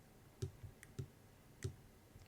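Computer keyboard keys pressed during 3D modeling work, a few separate soft clicks spaced about half a second apart, faint and close, with no talk.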